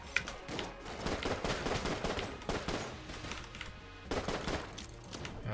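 Rapid gunfire from the twin-stick shooter video game Enter the Gungeon, dense bursts of shots piling into a near-continuous fusillade with brief gaps, loud and close, no talking over it.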